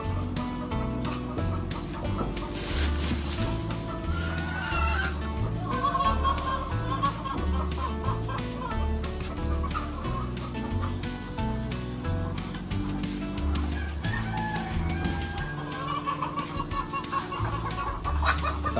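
Chickens cluck and crow steadily, close by, after being moved into a new steel cage at a layer farm, with birds calling over one another throughout and no talk.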